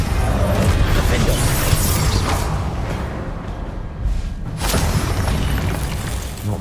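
A Defendo shield spell cast in Hogwarts Legacy, a dense burst of whooshing, crashing magical effects over continuous rumbling battle noise, loud and close throughout.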